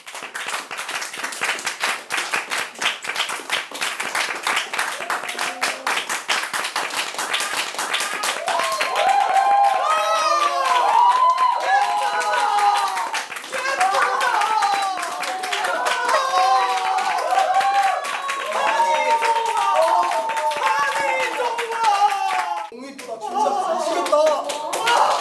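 An audience claps loudly to welcome a birthday guest, dense applause running throughout, with excited chatter and voices rising over it partway through.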